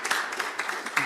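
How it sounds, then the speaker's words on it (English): Brief audience applause fills a community program in Manchester, a dense burst of many hands clapping at moderate loudness for about a second. "let's give him a round of applause"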